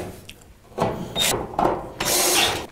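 Screws being driven into a bracket on an LG clothes dryer during a drum roller repair, heard as several short bursts of driver whirring and ratcheting, close and fairly loud, with no talk.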